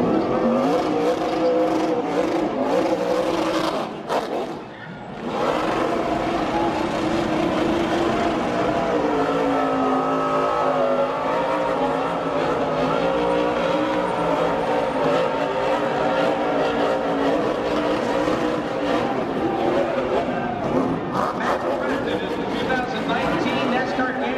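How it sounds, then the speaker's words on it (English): A NASCAR truck spins donuts on the main straightaway at Homestead-Miami after a championship win, its loud engine roaring and revving continuously with tire squeal, while a commentator talks over the din. "He is burning donuts on the main straightaway"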